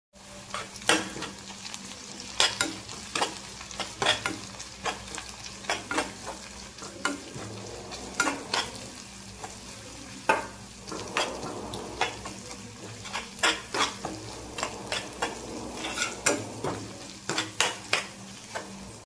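Ginger garlic paste sizzling in a hot pan while a spoon stirs and scrapes, with repeated sharp clinks against the metal.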